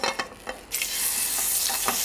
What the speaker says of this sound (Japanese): 今のこの音ね、こうジューッとした音、このジューッとした音が出ないと、美味しくありません。